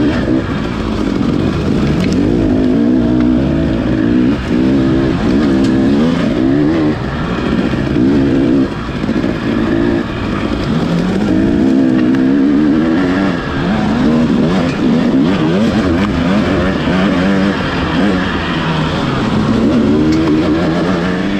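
An off-road race vehicle runs a broken-in race track through woods, its engine loud and close for the whole stretch, revving and bogging in shifting waves as it climbs and drops through the terrain, with no talking.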